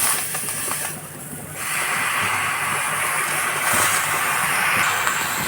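Tela kucha (ivy gourd) leaves, freshly washed, sizzle in a dry pan with a steady, fairly loud hiss that dips briefly and then swells again, with no voices.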